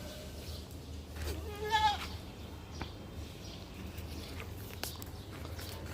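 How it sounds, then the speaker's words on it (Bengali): A Totapuri buck goat on a farm gives a single short, wavering bleat near the middle of the clip, heard at moderate distance over low steady background rumble, with a couple of faint knocks afterward. "এটা হচ্ছে অনেক সুন্দর একটি তোতাপুরি জাতের পাঠা।"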